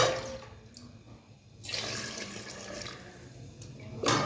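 Water poured into a cooking pot of chicken feet, starting after a quiet pause as a close, steady rushing splash that swells into a louder burst at the end.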